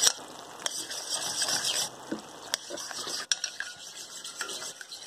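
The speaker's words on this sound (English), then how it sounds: "A little bit of milk at a time. Just sort of whisk it through and start to smooth it out." A whisk moves through a white sauce in a pan as milk is added little by little, making quick, close metallic scraping and swishing strokes at an uneven rhythm.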